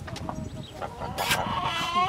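Geese and chickens call from behind at a farmyard, a mix of honks and clucks in short overlapping bursts, with one louder honking burst partway through.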